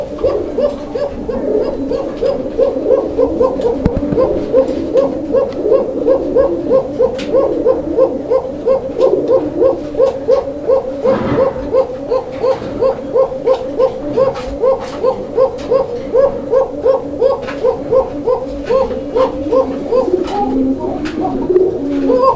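A male fancy pigeon coos close by in a long run of repeated low, throaty rolling calls with a steady pulsing rhythm, carrying on almost without pause.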